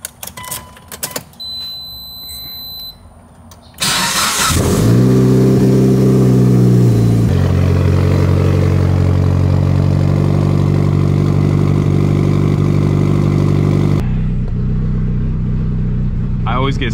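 A Mitsubishi Evo 8 engine cranks and fires up after some small clicks and rustles, revs briefly and then settles into a loud, steady close idle that later drops off abruptly.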